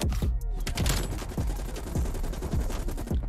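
Rapid automatic gunfire from the FFAR 1 rifle in Call of Duty: Cold War, dense bursts of loud shots firing continuously with sharp repeated cracks throughout.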